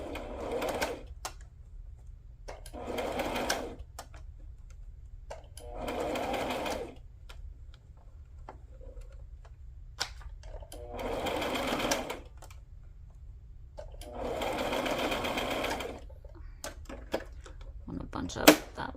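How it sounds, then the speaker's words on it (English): A sewing machine runs a straight stitch in several short whirring bursts of one to three seconds, each separated by quiet pauses, close by and steady in tone. "I'm just gonna do a straight stitch."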